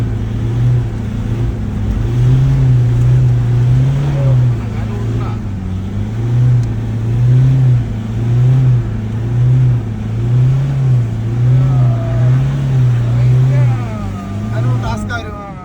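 A Toyota Innova stuck on rubber tree roots revs its engine in a loud, sustained drone that surges and falls again and again, with people talking over it.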